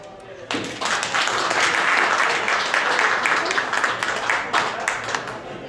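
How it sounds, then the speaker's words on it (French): After a brief quiet moment, applause bursts out from guests at a Brussels awards dinner and continues loud and dense, with individual claps audible within the crowd sound. "sous vos applaudissements"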